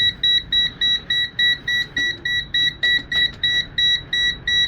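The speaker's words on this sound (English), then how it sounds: "So that's the alarm." A handheld gas leak detector sounds its alarm, a loud, shrill electronic beep pulsing in a fast, even rhythm of about three beeps per second, close and unaccompanied by speech.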